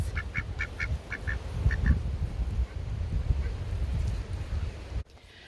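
Several ducks quack in short bursts over a low rumbling outdoor background, the calls clustered early and fading before a sudden drop in noise.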